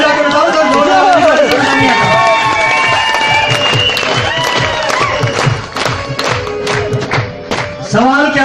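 A live audience breaks into applause and cheering at a sales seminar, loud clapping swelling and rippling through the crowd with scattered voices mixed in.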